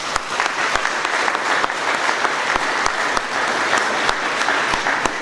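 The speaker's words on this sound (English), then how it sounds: "I'd like to give a little round of applause to everybody." A crowd of guests applauds steadily at a ribbon cutting for a new transit maintenance facility, dense clapping close by with a few sharper individual claps standing out, continuing throughout.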